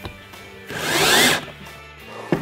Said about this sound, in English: So I'm just drilling through just to get my pilot hole started.